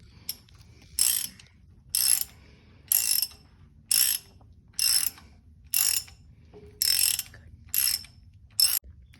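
A 9/16 ratchet backs out a bolt on a 1952 John Deere B tractor during PTO seal work, giving about nine evenly spaced bursts of sharp clicking, close and clear, with no talk.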